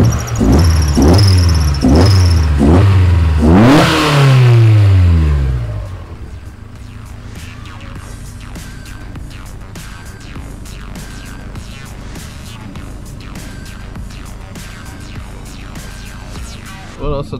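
A car engine fitted with an SLC Free 2 wideband lambda controller revs up and down in several quick loud blips, then settles into a steady, quieter idle that hums on for the rest of the clip.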